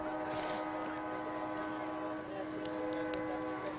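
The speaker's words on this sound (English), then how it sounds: "And the train's going by." A train passing by near an outdoor high school football playoff game, a loud steady rumble with sustained tonal horn-like hum throughout, crowd and announcer voices mixed in underneath.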